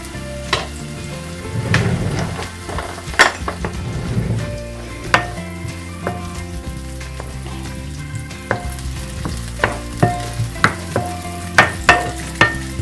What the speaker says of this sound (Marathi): हे बघा, आता आपला कांदा थोडा फ्राय होते